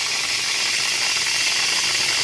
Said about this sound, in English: release the steam.